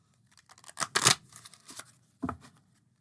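A Medicine Cards tarot deck is shuffled side to side by hand. The shuffle is close and quiet, with a cluster of soft riffling card flutters and then one more short burst.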